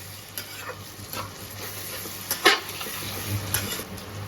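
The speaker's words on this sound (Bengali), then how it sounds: "আলুগুলো একটু ভাজা হয়ে গেল তাই তো?" Potatoes and onions fry in a pan with a steady, close sizzle, broken by a few sharper stirring scrapes and clatters. No one speaks.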